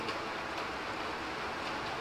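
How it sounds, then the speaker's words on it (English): Rain falls steadily as a soft, even hiss of broadband patter with no breaks. It sounds moderately distant and no one talks over it. "How is the rain noise, by the way?"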